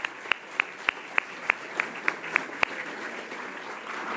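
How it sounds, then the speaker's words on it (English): Audience applause for the speakers at an evening America250PA national convening: a light, steady patter of hand claps with a few sharper claps standing out at a regular pace, fading into a broad hum of crowd noise. "if we can give them another round of applause."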